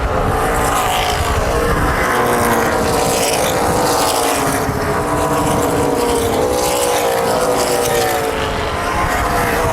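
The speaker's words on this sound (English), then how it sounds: "Inside of Dunleavy, he goes down the front stretch." Stock cars racing at Kil-Kare Speedway in a Main Event Racing Series 100, a loud continuous roar of several engines droning together with shifting pitch, with no pauses and no speech.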